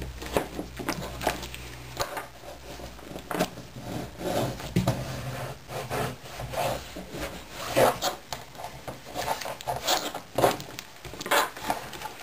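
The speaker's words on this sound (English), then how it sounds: "Now I can use my bone folder to fold the paper up." A bone folder folds paper up around the edge of chipboard while covering a vinyl binder for a recipe scrapbook: close scraping, rubbing and crinkling strokes come in irregular bursts.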